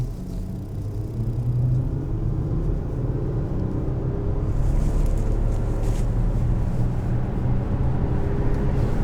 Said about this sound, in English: I just want to show you how refined this new V6 twin-turbo diesel engine is